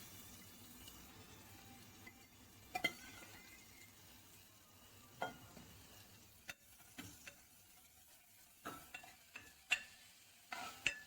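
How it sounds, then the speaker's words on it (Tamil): Dried fish dry-roasting in a pan, a quiet low background hiss broken by scattered sharp scrapes and clinks of a spatula moving the pieces, growing more frequent toward the end, with no talking. "அதில் வந்து இந்த கருவாடை வந்து ஃபர்ஸ்ட் வந்து வறுத்துக்கணும்"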